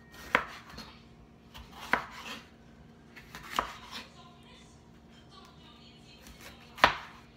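A knife slices through a bell pepper on a cutting board in four sharp, separate chops spaced a second or more apart, close and fairly quiet against a soft room background.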